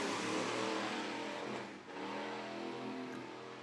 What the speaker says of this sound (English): Got the 0 car, Daniel Nelms, easing down the back straightaway